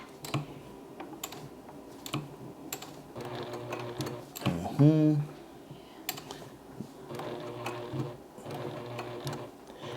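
Juki Haruka TL-18QVP sewing machine stitching a patch in quick rhythmic runs with clicking mechanical noise, starting and stopping, while a person talks over it nearby.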